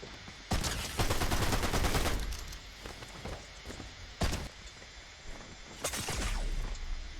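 Video game gunfire: loud rapid bursts of automatic shots come in several clusters, separated by quieter stretches with faint clatter.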